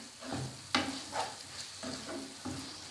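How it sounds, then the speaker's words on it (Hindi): Onion-tomato masala with red chili powder fries in a pan, stirred in short, regular scraping strokes over a steady close sizzle, with no voices. "इसको थोड़ा सा और भूनेंगे"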